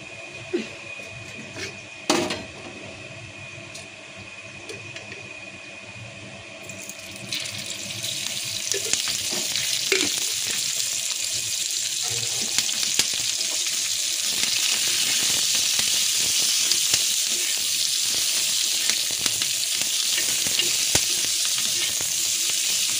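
Green chillies fry in chilli oil in a pan for a Maharashtrian dry-fish chutney; a few clattering knocks give way to a loud, steady, bright sizzle that builds and holds close up.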